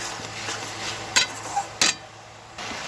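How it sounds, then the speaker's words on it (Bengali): Meat is stirred and fried in a pan with sour curd, dried chilli powder, green chillies and capsicum, giving a quiet sizzle under scraping spoon strokes and a few sharp metallic clinks against the pan. "মাংসটা কষা হচ্ছে"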